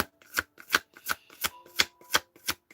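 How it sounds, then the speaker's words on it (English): A deck of tarot cards is shuffled in eight quick, crisp riffling bursts at a steady rhythm, close and clear with no talking. "Let's shuffle."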